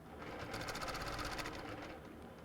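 A sewing machine stitching a guitar quilt, a fast even run of needle clatter swelling through the middle and easing off, steady and close with no talk.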